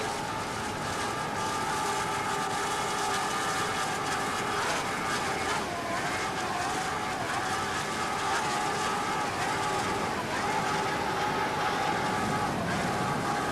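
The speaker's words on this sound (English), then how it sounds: "Sound great, the boat looks in good shape, and the Dunkmans really seem to have it dia" Continuous roar of powerful offshore powerboat engines racing at the 1988 Sheffield UniCal Offshore 100 in Panama City, a steady droning whine with no breaks.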